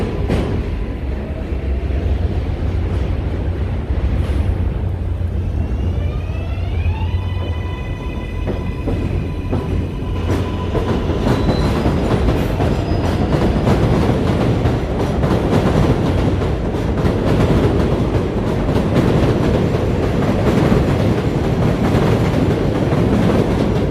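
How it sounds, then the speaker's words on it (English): A New York City 7 subway train rolls past on the line in Jackson Heights, Queens, loud and close, with a long rumble, rhythmic clickety-clack of wheels and a rising tonal whine as it goes by. "the subway train, the 7 train line."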